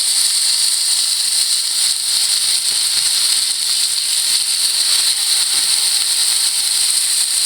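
Pork chops, just flipped after browning, fry in a hot pan with a loud, steady hiss and sizzle that runs unbroken throughout.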